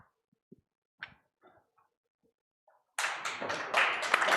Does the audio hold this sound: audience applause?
yes